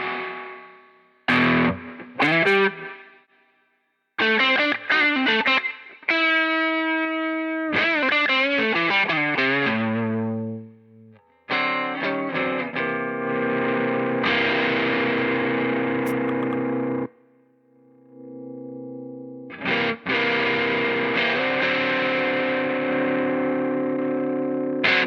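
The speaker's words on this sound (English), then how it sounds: "Super reverb." Electric guitar played through the Super Reverb amp model of a NUX MG-101 multi-effects unit, a series of ringing chords and arpeggiated phrases with lush reverberant decay, pausing between passages, clear and upfront with no talking.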